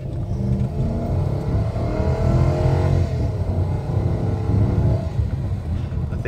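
A 2006 Toyota Tundra SR5 crew cab pickup accelerates, its engine note rising in a strong rumbling surge that peaks midway, then eases off before building again, heard close and loud with no talking.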